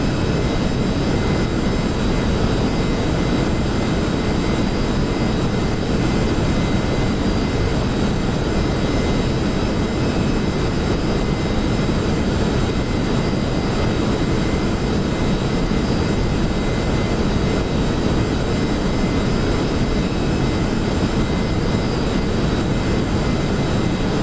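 A B-1A aircraft climbing in a flight simulator game, its engines giving a loud, steady, broadband roar that holds unchanged from start to finish, with no voices.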